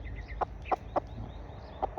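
A decoy chicken clucks in short, separate bursts close at hand, with a pause before the last pair, over a faint outdoor rumble.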